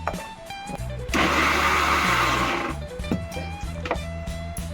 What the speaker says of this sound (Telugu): పుదీనా, కొత్తిమీర, పచ్చిమిర్చి తీసుకున్నాం కదండి, అన్నీ వేసేసి గ్రైండ్ చేసుకోవాలి